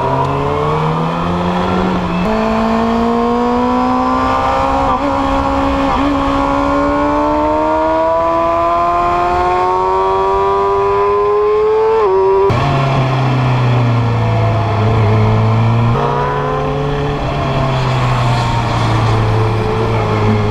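A 2012 Kawasaki ZX6R motorcycle runs on a race track with its engine loud and close, revving up through rising pitches over about twenty seconds and dropping sharply at each gear change before climbing again.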